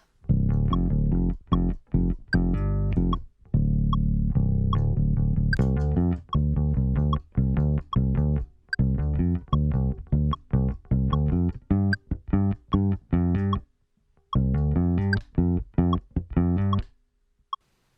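A bass guitar plays a riff without an octave pedal, clean and unaccompanied, in a string of punchy plucked notes with short gaps between phrases.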